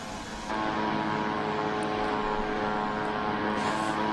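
A Beechcraft Model 99 twin-turboprop airliner in Microsoft Flight Simulator drones steadily with loud, even propeller and engine noise, swelling slightly after the first half-second and holding constant throughout.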